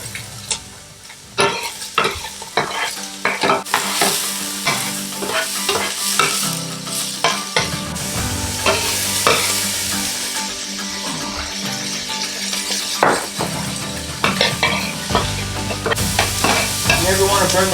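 Garlic sizzles in avocado oil in a pot, loud steady frying crackle with frequent stirring clatter from a utensil, close up and without talk.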